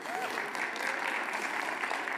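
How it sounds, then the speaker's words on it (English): Audience applause at a realtors association meeting, a steady wash of clapping filling the room throughout, loud and sustained with no pauses. "give yourselves a round of applause"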